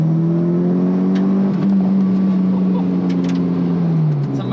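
A Mitsubishi Evo 6 TME RS drives along with a steady, close engine drone that rises slightly as it accelerates, holding a constant loud tone throughout with faint talk underneath.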